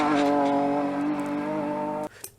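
Race car engine dropping into a low, harmonic drone after the driver lifts off the throttle, held steady and loud for about two seconds before cutting away abruptly.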